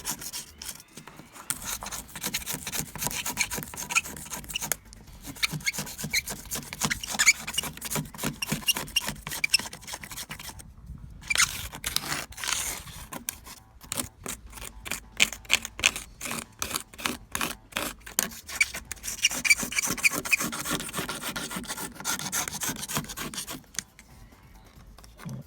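An expired plastic credit card rubs grime away in quick, repeated scraping strokes, close and fairly loud, running in bursts with short pauses between them.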